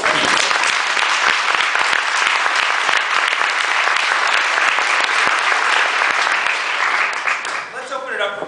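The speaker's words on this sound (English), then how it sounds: "Well, first, applause for Professor." Loud, full audience applause for a professor at a legal discussion event, steady dense clapping from a large crowd that fades toward the end as talking begins.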